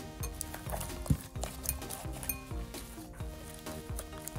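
Scent being mixed into mermaid slime, close wet squelching and sticky clicking pulses repeating in an uneven rhythm, with faint clinks, alone without talk.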